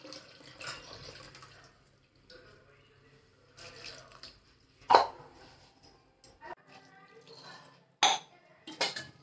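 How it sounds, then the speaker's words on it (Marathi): Water is poured into a pressure cooker holding green chickpeas, chana dal and peanuts, producing intermittent splashes and drips along with metallic clinks of the pot and utensils at close range. "त्याच्यामध्ये थोडं पाणी टाकते शिजण्यासाठी"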